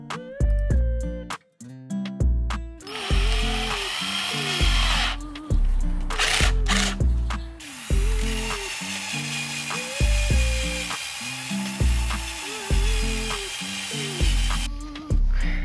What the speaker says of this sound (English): To remove the leftover double-sided tape, I used an eraser wheel.